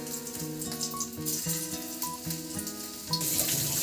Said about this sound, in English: I am frying potatoes.